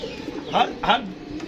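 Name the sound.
pigeons cooing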